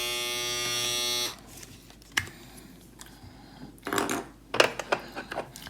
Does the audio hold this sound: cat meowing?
no